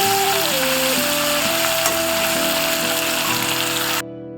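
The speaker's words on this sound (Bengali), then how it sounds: "এগুলো আপনারা সবসময় হাই ফ্লেমে ভাজবেন তাহলে কি হবে চিকেনটা জুসি থাকবে" Chicken pieces fry over a high flame, giving a loud, continuous close-up sizzle that holds steady for about four seconds before cutting off suddenly, with a tonal melody-like line running faintly underneath.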